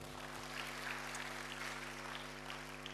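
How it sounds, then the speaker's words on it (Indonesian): A church congregation applauds during a sermon, a faint, even patter of many hands clapping continuously over a steady electrical hum. "Yang mau taat, berikan tepuk tangan bagi Tuhan."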